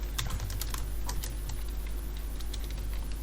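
Rapid, light clicks of a computer keyboard as code is typed, an irregular patter of keystrokes over a low steady hum in a quiet room.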